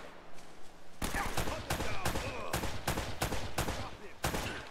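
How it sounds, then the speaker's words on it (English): Enemy gunfire in Uncharted 1, rapid loud shots cracking in close bursts, one after another, with dense game sound filling the background. "that guy's shooting from a ridiculous angle"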